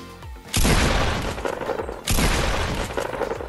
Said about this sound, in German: gebt jeweils dann immer einen Schuss ab